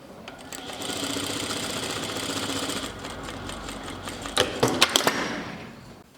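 A sewing machine stitches a shirt hem in a steady, fast mechanical whir for about four seconds, then breaks into several short, louder bursts of stitching before stopping.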